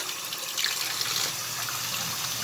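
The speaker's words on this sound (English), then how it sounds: "I'm going to run some more water." Water runs steadily from a shower tap into a clogged shower drain, a continuous close hiss of splashing flow with no talk over it.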